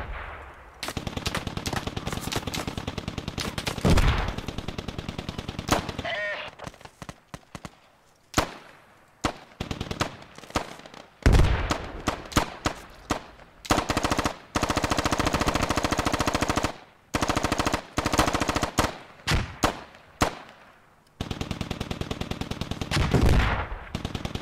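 Repeated bursts of machine gun fire in the video game Squad, a loud near rattle in rapid strings with short pauses, sometimes joined by more distant shots, and no talk.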